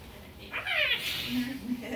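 A cat meows once in a rising then falling call, fairly close, over a murmur of background voices and room noise.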